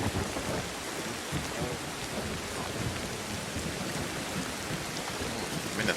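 Heavy thunderstorm rain in the prehistoric jungle game Ancestors: The Humankind Odyssey, a dense continuous downpour with a low rumble of thunder beneath, steady and enveloping, with no speech.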